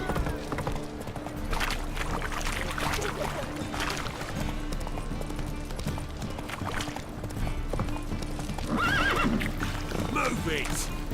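Horse neighing and clip-clop of hooves in the video game The Witcher 3, a steady busy mix of hoofbeats and whinnies running under ongoing speech and background game sounds.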